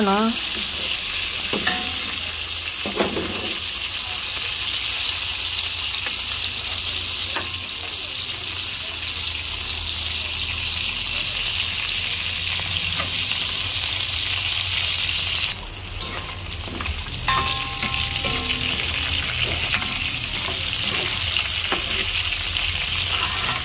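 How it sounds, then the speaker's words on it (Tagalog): Pork with green and red peppers stir-fries in a pan with a steady, loud sizzle that lasts throughout, while utensils occasionally scrape and clink nearby and no one speaks. "Fry lang po natin yan"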